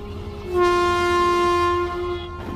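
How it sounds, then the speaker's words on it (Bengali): A speeding train in a night-time ghost-train cartoon blares one sustained, loud horn of about one and a half seconds over a steady rumble of rolling wheels. "হঠাৎ মনে হলো ট্রেনের গতি যেন আরো কয়েক গুণ বেড়ে গেছে।"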